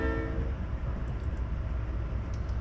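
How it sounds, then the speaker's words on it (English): A standard freight train on a junction track in a rail simulator: steady low rumble of rolling cars with a brief horn-like tone at the start and faint metallic clinks above the drone. "There's a train on that track."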